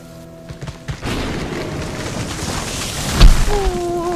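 A stormy night of wind and rain sounds in a Bengali horror cartoon, with a continuous rushing hiss and one heavy thunder-like boom late on.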